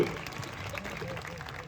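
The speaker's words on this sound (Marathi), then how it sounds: "त्यांच्यासाठी सुद्धा टाळ्या करा" Crowd applause at an outdoor wrestling ground (kusti maidan) in Lohgaon, a steady broad patter of clapping that carries through the whole short stretch at moderate loudness with no one speaking over it.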